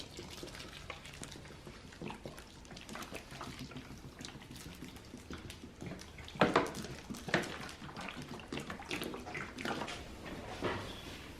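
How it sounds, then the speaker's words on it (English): Water splashing and sloshing in a worm bin as it is mixed into the bedding, with irregular pours and stirring noises, fairly close, some louder splashes midway. "Now I'm going to add some water and mix it all in."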